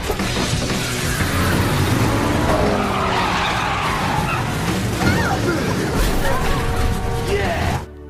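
Race cars launch at the start of a race in a prison racing film, with loud screeching tire skids and roaring engines that surge and overlap continuously for several seconds before cutting off abruptly.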